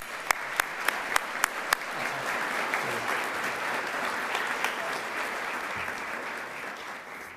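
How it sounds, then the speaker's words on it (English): Audience applause at a spring white coat ceremony, a steady dense crowd clapping that holds throughout, with a few sharp, distinct claps standing out near the start before fading slightly toward the end. "Please join me in giving a warm round of applause to Dr. France as we express our appreciation for his invaluable contributions."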